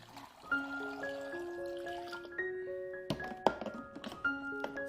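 Water pours into the chamber of a baby food maker and bottle warmer: a soft, steady trickle and splash under a gentle tonal melody, with a few light knocks toward the end.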